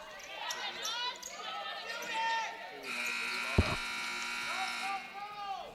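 During a women's college basketball game between Chipola and Broward, a loud electronic shot-clock buzzer sounds for about a second amid squeaking sneakers and crowd noise, with a brief thump of a bouncing ball nearby.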